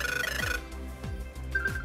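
Ringtone-like alert from the Smart Online Order app plays as a loud electronic melody, then a sustained tone that cuts off and resumes near the end.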